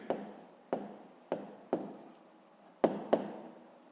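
Chalk or pen tapping and scratching while writing maths for a sixth-grade lesson comes as six sharp, close strokes at an uneven pace, alone and fairly quiet.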